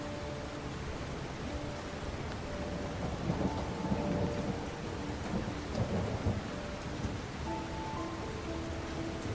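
Steady heavy rain with rumbling thunder in the video game Heavy Rain, a dense continuous wash of downpour with low rolling thunder swelling near the middle, no voices.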